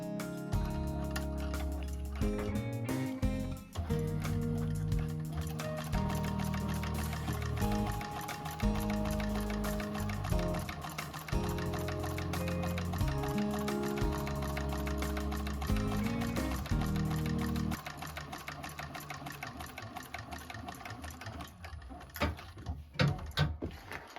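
A sewing machine top-stitches a bag, giving a steady, close mechanical whir with a fast needle rhythm that runs for about twenty seconds before slowing and stopping with a few stray clicks.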